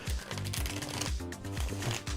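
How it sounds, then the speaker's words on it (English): A tarot card deck being shuffled by hand, rhythmic riffling and tapping repeating about every third of a second, close and alone. "So let's just shuffle this maybe 2 more times."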